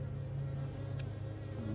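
Steady low buzzing of honey bees at an apiary hive, close and continuous throughout, with a constant drone and no voices.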